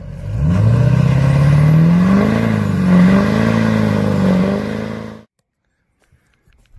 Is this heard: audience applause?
no